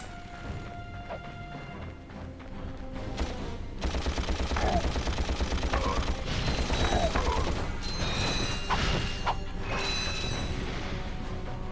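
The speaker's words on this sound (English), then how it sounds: "Explosions everywhere." Explosions and gunfire fill a Ratchet & Clank battle against robots, a dense, loud barrage of blasts, rattling shots and crashes that keeps building and continues without pause.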